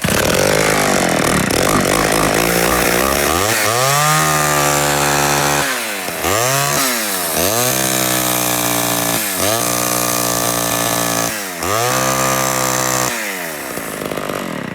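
A Homelite SXL chainsaw engine runs loud and close after warming up, revving up and dropping back repeatedly in a steady rising and falling cycle with no talk.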